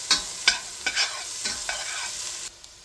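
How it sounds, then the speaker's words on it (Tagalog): Garlic and onion sautéing in cooking oil in a pan for ginisang patola: a close, hissing sizzle broken by several sharp stirring scrapes and clacks, fading out near the end. "dito sa kawali guys, maglagay na tayo ng cooking oil. Yan, pagsabayin ko na guys yung ating bawang at sibuyas. Igisa."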